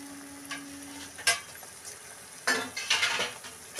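Homemade herbal hair oil simmering in a pan, with soft bubbling under sharp metal clinks and scrapes of a spoon stirring against the pan, in bursts near the end.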